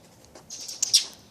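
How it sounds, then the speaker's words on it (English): Small birds in an urban fall garden give a few quick high chirps, faint at first then brighter and closer in a brief burst near the end, with no talking. "birds are really chirping."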